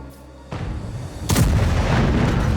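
A video game tank cannon fires a high-explosive shell with a sudden heavy boom, followed by a second louder explosion with a long rumbling tail, loud and close.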